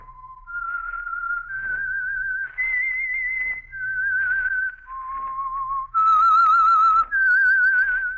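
A solo whistled melody of sustained notes, clear and close, stepping up and down in pitch with brief pauses between phrases, the signature whistle of the old radio program The Whistler.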